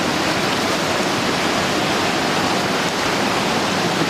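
The Franklin River in Tasmania rushes furiously, a steady, dense roar of churning water that stays constant and fairly loud throughout.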